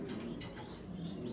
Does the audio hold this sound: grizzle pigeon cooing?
yes